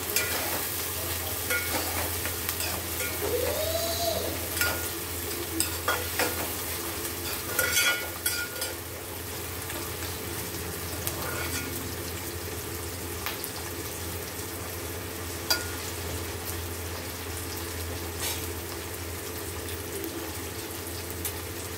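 Tomatoes and onions for a fish curry sizzle steadily in a pan while being stirred, with scraping strokes and a few brief clatters over a continuous frying hiss.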